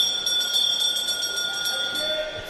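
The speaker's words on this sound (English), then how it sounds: "because now we have the bell" A bell being rung during a women's track cycling points race at an indoor velodrome arena: rapid, steady metallic clanging repeating about a dozen times, bright and moderately distant over a sustained crowd and arena hum.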